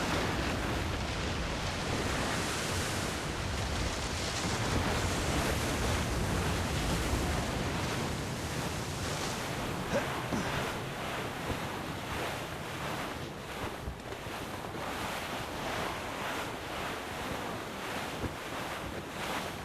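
Stormy weather at sea in Assassin's Creed Rogue: roaring ocean waves and gusting wind blend into a dense, constant wash of noise, loud and unbroken throughout.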